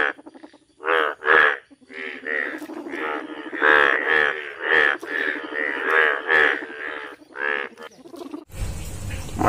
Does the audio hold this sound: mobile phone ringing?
no